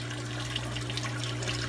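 Water running steadily through a homemade saltwater reef tank filter sump past the protein skimmer, a continuous faint trickling wash over a low pump hum with no talking.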